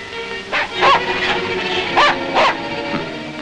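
A dog gives several sharp barks in a quick irregular series, close and fairly loud over a steady background hum, with no talk.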